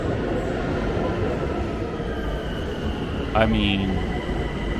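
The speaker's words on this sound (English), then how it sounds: "A train, public transit." Steady rumble of a public transit train in motion in Tehran, Iran, fills the clip, with a brief squeal and clatter near the end and a short spoken phrase over it.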